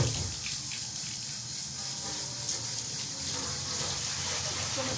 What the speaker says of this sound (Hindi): इसको मैं धो के रखती हूँ।